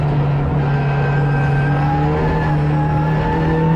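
A race car, probably a Ford Fiesta, moves through the pit lane at Donington on its way to a drive-through penalty, its engine holding a steady loud drone that stays near and constant.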